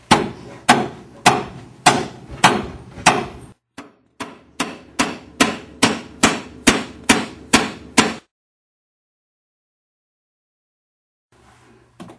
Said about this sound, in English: Give him another couple hits, Mark.